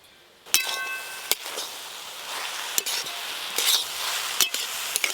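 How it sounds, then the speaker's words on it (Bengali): Water spinach (kalmi shak) stirred in a pan as it fries, with steady sizzling and a few sharp clinks and scrapes of a utensil against the metal, close and alone. "চাপা খুলে আরেকবার ভালো করে নেড়ে নেব।"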